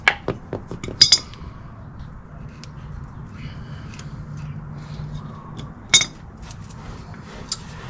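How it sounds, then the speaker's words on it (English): Small metallic clinks and taps as a cotter pin is worked out of a tie rod end on a 2012 Toyota Tacoma SR5: a handful of sharp close ticks, two brighter pings near the start and middle, over a low steady hum. "Removing the cotter pin"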